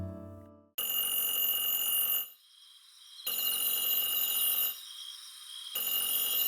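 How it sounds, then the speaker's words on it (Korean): An old-style telephone in a grandfather's house rings with a loud, bright electronic bell in three long bursts separated by short pauses. A brief musical tone comes just before the first ring, and there is no talking. "어느 날 전화가 울렸다."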